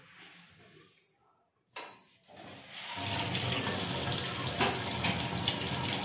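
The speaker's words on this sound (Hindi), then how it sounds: "अब टैप खोलना," Water gushes from a household tap that has just been opened after a gas geyser repair, starting after a short silence and a few clunks, then running as a steady, loud, close splashing stream into the sink.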